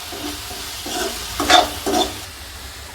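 Turmeric, coriander and cumin powder being stirred in a frying pan, soft scraping strokes over a low sizzle, with a few louder scrapes in the middle and a sharp knock at the end.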